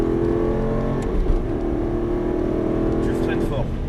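Full-throttle acceleration from an Aston Martin V8 lapping the circuit at Dreux: a loud, sustained engine note rising through the gears, with a brief shift-like break near the end and a coaching voice talking over it.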